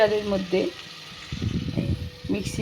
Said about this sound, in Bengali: জিরে ফোড়ন, শুকনো লঙ্কা আর তেজপাতা ফোড়ন দিয়ে আলু পটলটাকে ভালো করে ভেজে নিচ্ছি